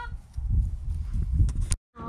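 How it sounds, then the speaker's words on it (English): Chickens in a backyard homestead barn cluck and squawk in a busy, overlapping jumble at close range before the sound cuts off briefly and then resumes. "Oh, you guys left all the chickens in here."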